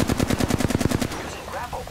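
Automatic gunfire in Apex Legends: a fast burst of about a dozen loud, evenly spaced shots lasting roughly a second, followed by a quieter tail of game effects and a brief electronic chirp.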